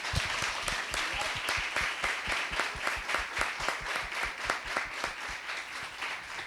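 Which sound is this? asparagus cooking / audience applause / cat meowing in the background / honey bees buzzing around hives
audience applause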